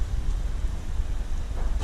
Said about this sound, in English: It stopped raining, I think, and then it just started again